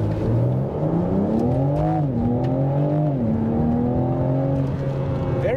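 A 2022 BMW M4 Competition Convertible accelerates hard in regular automatic mode, its engine note climbing through smooth upshifts, heard steadily from inside the car with no talking.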